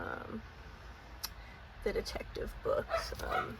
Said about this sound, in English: Sorry if you can hear Oscar barking.